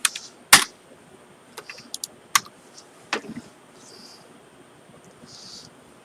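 A password being typed on a computer keyboard gives a few scattered, close key clicks with uneven gaps, one louder tap near the start, then a faint quieter stretch.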